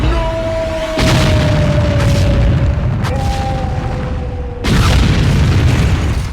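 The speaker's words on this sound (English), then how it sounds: "the entire gas station erupts into a giant fireball" A gas station erupts into a giant fireball in a comedy film scene, heard as a sudden loud boom that cuts in abruptly, followed by a second sharp burst a few seconds later over a sustained roar.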